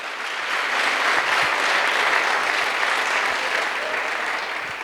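An audience at a public program in Ladgaon, Chhatrapati Sambhajinagar, breaks into loud, dense, sustained clapping that fills the whole stretch.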